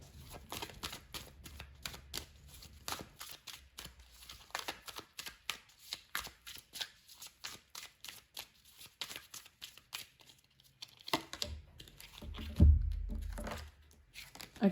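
Tarot cards shuffled by hand in rapid riffling, flicking bursts, followed by a short pause and a soft thump as a card is drawn and laid down, close and fairly quiet.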